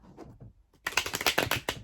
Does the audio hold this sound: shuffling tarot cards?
yes